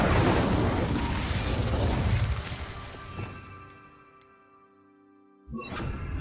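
Incendio fire spell cast in a Harry Potter video game: a loud whooshing, crackling burst of flame that fades into quiet ringing tones, followed by another sudden loud burst.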